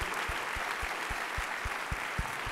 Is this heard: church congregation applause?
yes